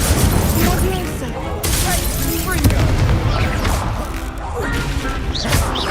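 Confringo, an explosive spell cast in a Hogwarts Legacy dueling tournament, sounds as repeated blasts and crashes amid dense, loud spell-combat noise, with a voice speaking throughout.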